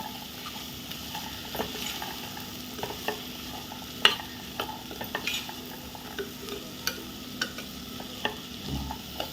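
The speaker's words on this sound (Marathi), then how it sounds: "आता परत एकदा आपण ढवळून घेऊया" Chickpea usal is stirred in a pan, soft repeated scraping clicks over a faint low simmering sizzle, close and fairly quiet.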